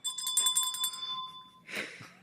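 A bell sound effect rings with a rapid, bright, metallic jingle for about a second, then a short clang follows, fairly close and clear, with no talking.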